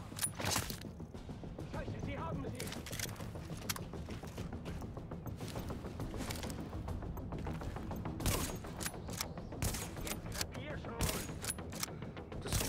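Sustained firefight in The Division during a sniper duel, with a dense run of clattering shots and mechanical clicks at low level, steady throughout with no clear pauses.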